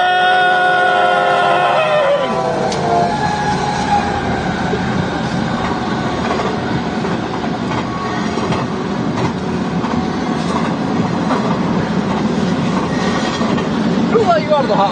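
A train rolls past close by with steady rumbling and clickety-clack of wheels over rails, loud and continuous, during storm chasing in Nebraska.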